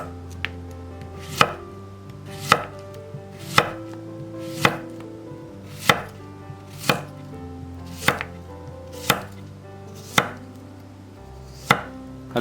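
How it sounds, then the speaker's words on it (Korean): A knife julienning zucchini into even strips on a cutting board, with about eleven crisp, evenly spaced chops ringing out close and clear over a faint low hum, no voices. "같은 두께로 채 썰어줍니다."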